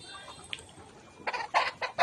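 Layer hens give a few short clucks near the end, close and fairly loud, after a quiet stretch with a faint high tone.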